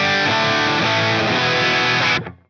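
An electric guitar with gain, miked at the speaker cabinet with a 57 among multiple mics, rings out as one loud, thick distorted chord that sustains for about two seconds before cutting off and decaying.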